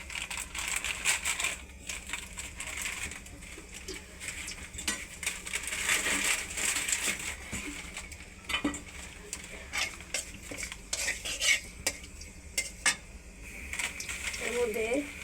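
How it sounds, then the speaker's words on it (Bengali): Crushed vermicelli frying in ghee and soybean oil with cinnamon and bay leaves for coconut shemai, stirred steadily in a pan: repeated metal scrapes and clinks over a low sizzle, close and moderately loud throughout. "সেমাইটা ওইটা ভেজে দেব"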